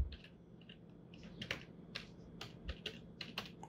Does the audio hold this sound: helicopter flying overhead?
no